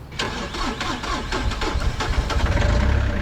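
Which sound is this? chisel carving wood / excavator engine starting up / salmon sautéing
excavator engine starting up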